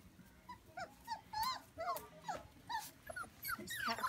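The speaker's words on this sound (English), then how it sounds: "Puppies are outside, enjoying some fresh air and freedom." Goldendoodle puppies about four and a half weeks old whimper, yip and growl outdoors, a busy overlapping chorus of small high cries and rough little growls from close by, with no talking.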